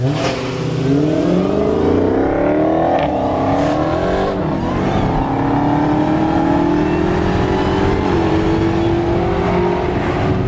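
A Dodge Challenger Hellcat launches hard at a race start with its tires spinning, the engine roaring loud and close through steadily climbing revs for the whole stretch.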